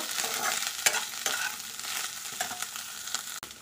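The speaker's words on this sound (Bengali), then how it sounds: "তো পেঁয়াজটা ভালো করে ভেজে নেব।" Onion fried in a pan as the base for a prawn and vegetable dish, with a close, continuous sizzle and frequent spatula strokes scraping and stirring through it.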